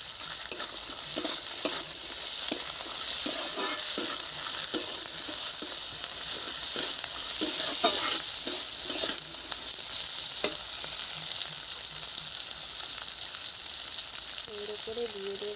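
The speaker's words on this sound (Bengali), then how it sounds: "কাঁকড়ার ওপরে দিয়ে দিলাম আদা বাটা" Crab frying in a pan with ginger paste added, a steady hissing sizzle with repeated stirring scrapes, close and fairly loud, with brief talking near the end.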